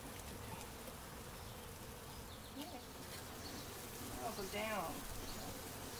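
Honey bees at a hive buzz in a constant low drone, with faint murmuring voices briefly audible underneath.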